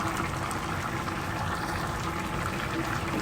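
Fish curry with leafy greens bubbles in a pan after water is added, giving a soft, continuous simmering burble without pause or speech.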